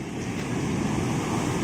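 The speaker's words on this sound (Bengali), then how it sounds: "শালা কাছে এসে কিরকম হাউ হাউ করছে ঢেউটা" Sea waves surge and break on the beach at Digha, a steady broad wash of surf with wind noise and no voices.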